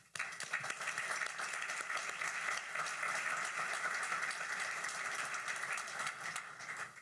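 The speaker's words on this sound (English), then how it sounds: "Please join me in a round of applause for all of them." Steady applause from a conference audience at an Argentina-Texas Chamber of Commerce event in Houston fills the room, a dense, even wash of many hands clapping for about seven seconds before it drops off at the very end.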